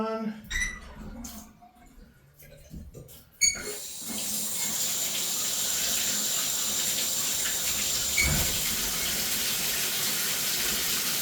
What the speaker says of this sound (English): Press the shower on.